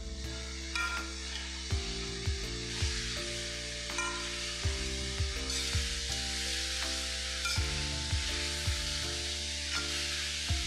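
Mixed vegetables with capsicum and peas sizzle steadily in a frying pan, with repeated clunks and scrapes of stirring at irregular intervals throughout.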